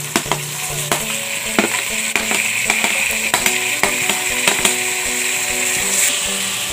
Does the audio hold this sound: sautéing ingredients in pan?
yes